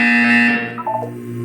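A loud, tonal buzzer from the video game Portal 2 sounds briefly and alone, then cuts off and decays into a few fading electronic tones.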